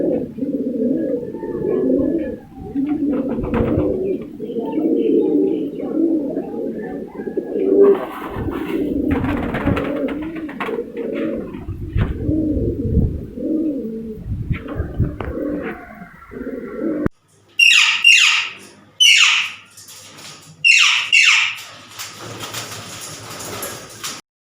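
Shirazi pigeons, a breeder pair kept in a loft setup, coo in low, rolling murmurs that run steadily and close by for most of the stretch, joined near the end by sharper, higher bird calls and a sliding, door-like scrape.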